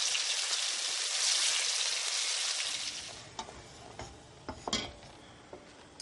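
Pork medallions frying in a pan, a strong steady sizzle for the first few seconds that then drops to a softer crackle with scattered sharp pops and ticks.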